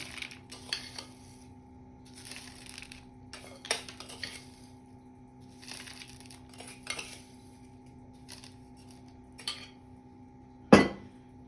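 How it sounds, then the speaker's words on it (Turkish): A metal spoon clinks against a pot or bowl as rock salt is added to a cabbage pickle. The soft, scattered taps are spaced apart in a quiet kitchen, with one sharper, louder clank near the end. "5 kaşık kaya tuzu ekleyeceğim."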